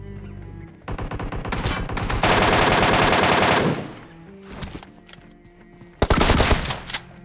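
Loud shotgun blasts from a DBS in PUBG Mobile, arriving as dense rapid bursts in two main clusters with a quieter gap between, crisp and close.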